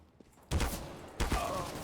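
Pistol shots from Counter-Strike: Global Offensive ring out: two sharp, close gunshots roughly 0.7 seconds apart, each trailing into a brief echoing decay over the game's background.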